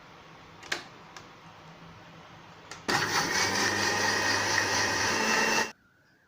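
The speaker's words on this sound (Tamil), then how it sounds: "இப்போ நம்ம எடுத்து வச்சுருந்த ஆயிலை இதில் கொஞ்சம் கொஞ்சமாக சேர்த்து நம்ம அரைச்சிக்கலாம்." A blender whirs loudly for about three seconds while milk and oil are blended into mayonnaise, after a few faint clicks and knocks, then stops abruptly.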